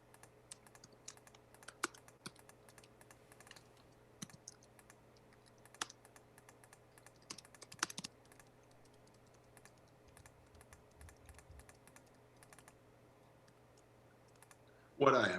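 Typing on a computer keyboard, light irregular clicks and taps scattered through a quiet room with a low steady hum, ending in a louder burst at the very end.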